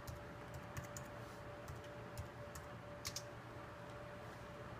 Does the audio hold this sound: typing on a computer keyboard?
yes